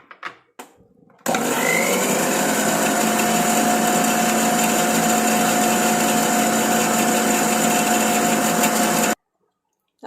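A mixer grinder grinds herbs with water for homemade hair dye, a steady loud motor whine running for about eight seconds, then stopping abruptly, with a few clicks before it starts.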